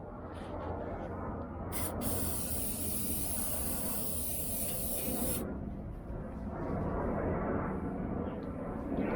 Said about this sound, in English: let's give that a generous squirt